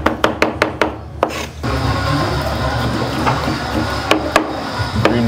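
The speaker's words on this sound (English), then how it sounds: "So it's just dicing up some fresh onions" Knife dicing fresh onions on a board for Bahamian conch salad: a run of sharp, evenly spaced chops up close, then a steady rubbing scrape with a few more crisp cuts near the end.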